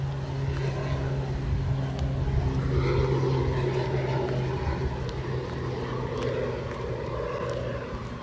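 A propeller airplane drones overhead outdoors, a continuous low engine hum that swells slightly and then holds steady at moderate distance throughout.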